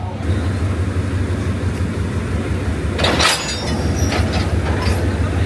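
Steady low rumble of a train rolling along the tracks in Trang, Thailand, with a brief burst of metallic rattling partway through and a few lighter clanks after.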